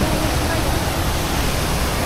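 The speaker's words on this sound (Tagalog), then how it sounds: "naririnig ko na ang agos ng tubig" Rushing water of Lulugayan Falls in Calbiga, Samar, Philippines, a loud, constant broadband roar that fills the whole stretch without a break.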